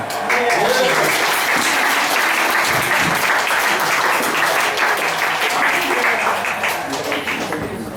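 Sustained audience applause at a poetry and beats event, dense steady clapping throughout with a lively crowd, slightly easing toward the end.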